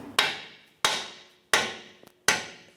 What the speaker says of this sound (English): I'm just going to use a dead blow hammer